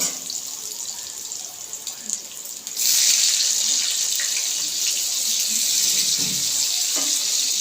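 Water runs from a household tap into a sink, quiet and trickling at first, then turned up abruptly into a strong, steady gushing stream that continues to the end.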